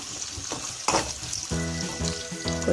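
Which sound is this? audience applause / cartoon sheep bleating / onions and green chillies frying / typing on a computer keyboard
onions and green chillies frying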